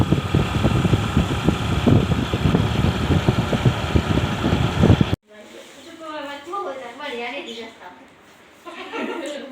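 A motorbike engine rumbles steadily nearby for about five seconds, then stops abruptly and a person starts talking.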